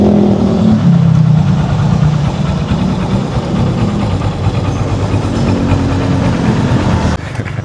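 A budget-modified motorcycle engine runs loud and close, with a steady rough idle rising into revving and a sudden drop near the end.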